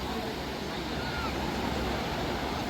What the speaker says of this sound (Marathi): समुद्राच्या लाटा आणि समुद्रातील मस्त अशी हवा इथं अनुभवू शकता